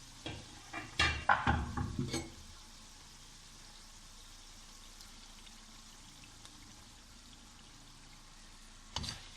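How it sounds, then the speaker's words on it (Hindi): Yogurt is poured into karahi gosht cooking in a pot. A short burst of pouring and stirring is followed by a long quiet stretch and then a single soft knock near the end. "अब इसमें दही डालेंगे"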